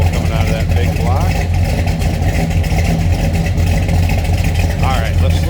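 Deep, steady idle rumble from the 454 big-block V8 of a 1970 Chevrolet Chevelle Malibu hardtop, a continuous low drone running unbroken and fairly loud throughout.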